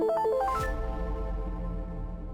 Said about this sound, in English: Minecraft custom hiss. That's the sound.